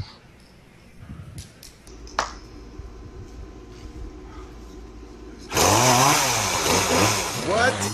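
A loud, harsh chainsaw motor roars in suddenly after a stretch of quieter background noise, revving and buzzing steadily close by during a talent show act.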